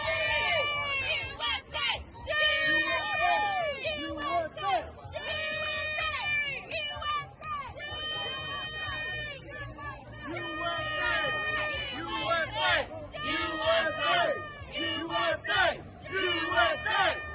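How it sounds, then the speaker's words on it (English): A crowd at a Portland protest cheers and shouts in support of ICE officers. Loud, sustained yells and chant-like cries rise and fall continuously for about seventeen seconds. "you got a group of patriots here cheering on for these ICE officers"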